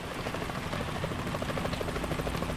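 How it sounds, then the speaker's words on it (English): A helicopter's rotor thumps in a rapid steady rhythm under a constant engine whine in Metal Gear Solid 2, fairly close and unbroken. "Is that a chopper I just heard?"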